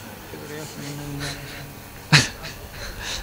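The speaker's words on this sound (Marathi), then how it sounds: "कोणाला भुकायलेत कुत्रे?" A dog barks once, sharp and short, during a kirtan gathering, cutting through a voice speaking nearby.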